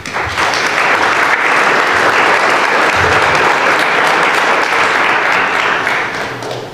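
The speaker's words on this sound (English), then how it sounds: "How about one more round of applause?" Sustained audience applause after a talk on stem cells and genetic therapies, a loud, even roar of many hands clapping that holds steady before tapering off near the end.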